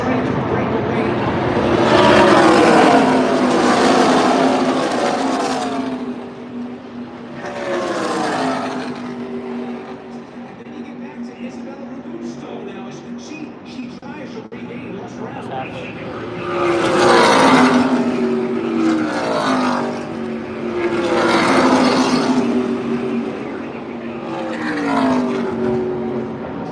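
ARCA race cars roaring past on the track in repeated loud waves, engines rising and fading as packs go by, with a commentator talking throughout.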